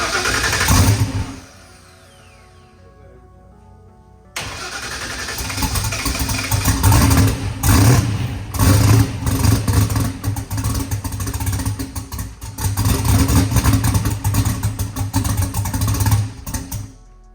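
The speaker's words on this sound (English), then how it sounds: "Got the car cranked up." A 3000HP small block Ford car engine cranks and fires up after a quiet pause, then roars loudly with rough, uneven revving bursts close by.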